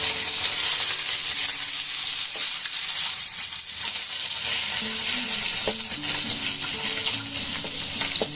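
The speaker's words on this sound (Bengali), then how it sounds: "আর মাছগুলো এরকমই লাল লাল করে আমরা ভেজে খাই।" Fish pieces fry in a pan until red on both sides, giving a loud, close, constant sizzle with occasional scraping and clinking as they are moved and turned.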